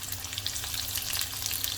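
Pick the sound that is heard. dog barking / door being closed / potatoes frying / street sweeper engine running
potatoes frying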